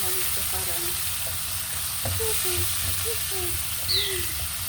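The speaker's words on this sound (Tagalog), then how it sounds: "Nauna kong naigisa yung ano, yung sibuyas." Onions sautéing in a pan as part of a moringa and string bean dish, giving a steady close sizzle and frying hiss throughout with soft stirring and a few faint clinks.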